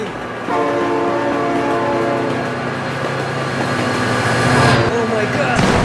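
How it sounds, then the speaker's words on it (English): A train in the BeamNG driving game sounds a loud, sustained horn over rumbling wheels and rail clatter, with excited voices speaking over it. "Oh my god, train!"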